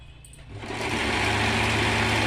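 A sewing machine stitches the outline of a blouse, its motor whirring up within the first half second into a steady, loud, close mechanical hum with a fast, even stitching pulse.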